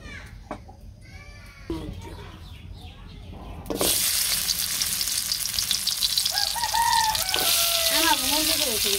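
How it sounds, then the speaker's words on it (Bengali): Sliced pointed gourd drops into hot oil, and a loud sizzle bursts in partway through and continues steadily. Voices, including a child's, talk before and over the frying. "পটল ভাজা নিয়ে তেল দিয়ে দিলাম"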